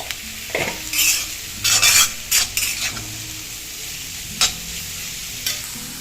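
Six lengthwise-sliced onions with salt and turmeric frying in a pan under a low sizzle, broken by several short, sharp bursts of a spoon scraping and stirring against the metal.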